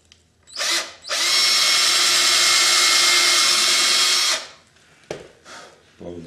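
A power drill bores holes into a carved wooden cowboy boot: a short burst, then a loud sustained whine for about three seconds before it winds down, followed by faint handling knocks.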